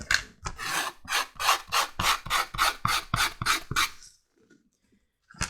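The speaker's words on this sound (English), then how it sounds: "just scrape it a bit to rough it up." Rough back-and-forth rasping of a tool scraping glued sheath pieces to roughen them for a cleaver sheath, about a dozen rhythmic strokes, close and loud, then near silence.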